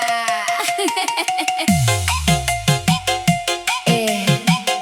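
Phone notification tones chime over and over in rapid succession, bright pinging beeps stacked on each other in a relentless, loud sequence with no voices.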